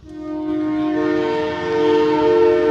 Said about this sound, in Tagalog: Naku, may tren!